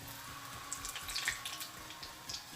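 Madura seva pieces frying in hot oil and being stirred, a steady close-up sizzle with scattered crackles and pops spread evenly across the moment.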